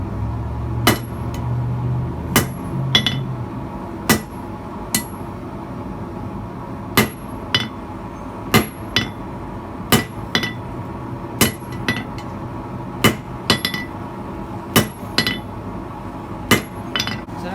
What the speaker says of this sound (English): Continuing half on, half off blows, making a stout taper.